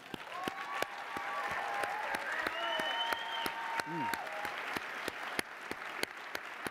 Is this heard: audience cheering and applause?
yes